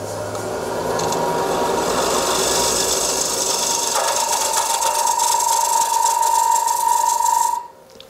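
A tagua nut is hollowed out on a woodturning lathe, giving a steady, close scraping and rasping grind with a faint whine. It holds for about seven seconds before stopping abruptly.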